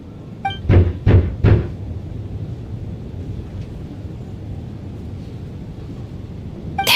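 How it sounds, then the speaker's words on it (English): Three heavy knocks on a door in a video game, spaced evenly and booming, followed by a low rumbling ambience with a faint tonal sting at the end. "Am I hearing things? Or was that a knock at the door?"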